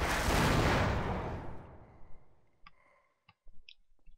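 An exploding barrel in Half-Life bursts in one loud, close blast that rolls off over about two seconds, followed by a few sharp clicks and small thuds.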